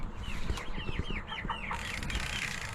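Meat chickens on a homestead cluck in a quick run of repeated rising calls, close and fairly loud over a steady outdoor background, with no talking.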